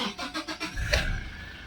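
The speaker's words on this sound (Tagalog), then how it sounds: "Start ko na itong makina mga boss" A Toyota Innova engine cranks with several rhythmic starter pulses, then catches and settles into a low idle rumble, heard close and moderately loud after fresh oil was added.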